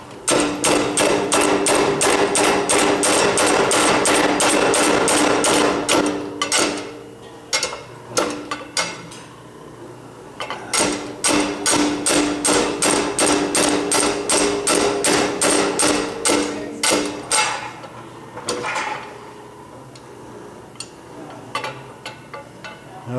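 Repeated hammer blows on a blacksmith's forging tool bottomed out on the workpiece, a fast steady run of loud metallic strikes in bursts with short pauses, the later hits landing harder.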